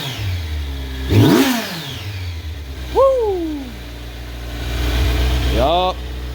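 A 2020 Yamaha MT-03/R3 parallel-twin motorcycle with a Two Brothers Racing slip-on exhaust idles, then blips its throttle in three sharp rising-and-falling revs, loud and close, settling back to a low idle between them.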